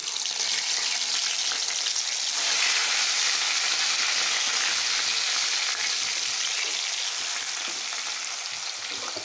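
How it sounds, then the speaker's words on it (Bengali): Boal fish pieces frying in hot mustard oil give a loud, steady, dense sizzle that swells after a couple of seconds and holds without pause. "প্রায় তেল গরম হয়ে গেছে, এখন আমি এক এক করে এই বোয়াল মাছগুলো দিয়ে দেবো"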